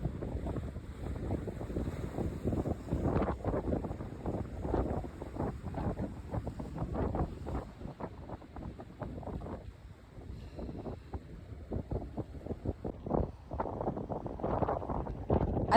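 Steady wind buffets the microphone in gusty, rumbling bursts at Al Mamzar beach in Dubai, with a faint whine in the background and no voices.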